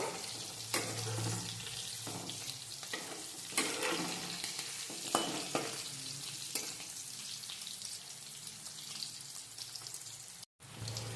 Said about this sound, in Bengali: এবার এটাকে একটু হালকা ভাজা করে নেব